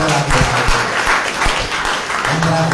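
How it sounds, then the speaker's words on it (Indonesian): Church congregation applauding during a Sunday worship service, a steady wash of clapping filling the room with a faint voice or music tone underneath. "Tepuk tangan bagi Allah."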